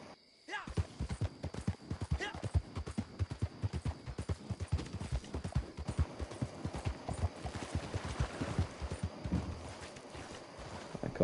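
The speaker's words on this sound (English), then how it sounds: "Alright, we're all on horses? Yes, okay. Let's go." Several horses walking together in a video game, a steady, fairly loud clip-clop of hooves running almost throughout, with people talking over it.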